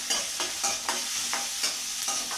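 Onion and garlic sauté in a hot pan, a close, continuous sizzle broken by regular scraping strokes of a spatula roughly every half second, with no voices.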